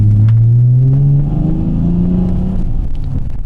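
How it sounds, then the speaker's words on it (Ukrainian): A Dodge Charger muscle car engine revs loudly with a deep, rumbling growl, its pitch rising then settling into a throaty idle, close and continuous. "саме так цей автомобіль звучить, коли ви на ньому їдете, і він постійно гарчить"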